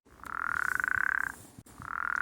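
A frog croaks in two long, pulsing trills, close and clear, separated by a short pause against a quiet background.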